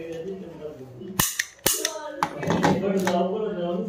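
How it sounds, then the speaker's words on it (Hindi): A toy rocket launcher gun sold as a Diwali toy fires rockets with two sharp cap-like cracks close by, followed by a few lighter taps and clicks, under ongoing talking. "ये रॉकेट आगे जाके फायर होती है और फिर ये ब्लास्ट होती है आगे जाके।"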